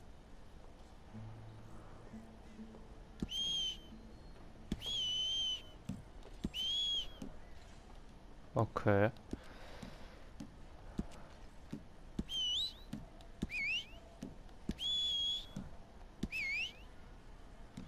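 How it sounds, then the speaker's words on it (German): Whistling in the video game Red Dead Redemption 2: several short, high rising whistle calls repeat over quiet game ambience, with hoofbeats and footsteps in between and a brief spoken word. "Pfeifen."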